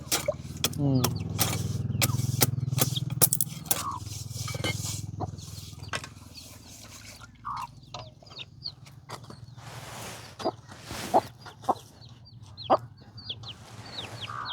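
Chickens cluck and squawk nearby amid clattering, scraping noises, with a low hum early on and occasional sharp knocks.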